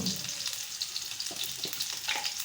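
Chopped onions frying in a little oil in a kadai give off a steady, close hiss and sizzle, with brief stirring scrapes now and then.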